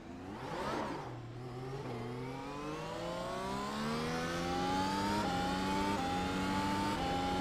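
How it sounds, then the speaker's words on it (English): Race car engine in the iRacing sim at Imola, a Grand Prix Series car approaching and passing, its pitch climbing steadily through the gears as a loud, sustained whine with harmonic layers. "The car is approaching."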